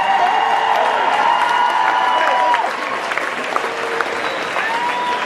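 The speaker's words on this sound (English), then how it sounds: "Y'all get on your feet for these seniors real quick and give them a round of applause" A high school pep rally crowd at Pleasant Grove stands and applauds the seniors, with loud continuous clapping and some cheering that eases a little halfway through, then carries on steadily.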